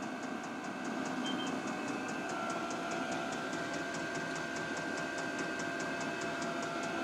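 A Vevor Chinese 8 kW diesel heater runs steadily, giving a continuous fan-like roar with a faint rapid, regular ticking over it throughout, with no talking.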